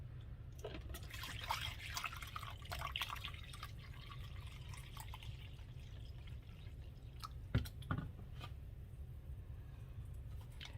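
Vinegar pours into a measuring cup for kosher dill pickle relish, a close, soft trickling stream with a few drips near the end.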